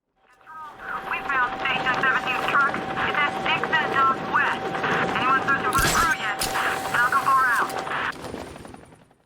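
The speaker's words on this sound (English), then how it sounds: "The helicopter guard is informing the user danger is around." Radio-style speech from a helicopter guard in the video game Batman Arkham Knight, a loud steady stretch of talk with a constant tone, joined by bursts of gunfire around the middle of the clip.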